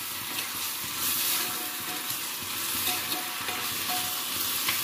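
Sour raw mango goes into a wok with dhekia fern and is stir-fried, producing a soft, steady sizzle marked by repeated scraping and stirring strokes at close range, fairly quiet throughout.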